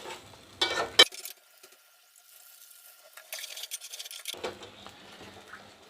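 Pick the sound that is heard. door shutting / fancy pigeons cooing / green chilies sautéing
green chilies sautéing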